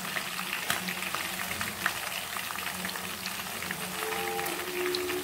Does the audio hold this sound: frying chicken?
yes